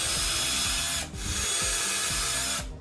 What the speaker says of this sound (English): I'm gonna drill as straight as I can.